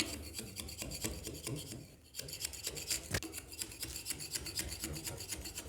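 A flat scraper blade (riflard) is pushed along a wall to strip old wallpaper in an old house, giving a run of rapid, rasping scrapes with a brief pause midway, close and fairly quiet.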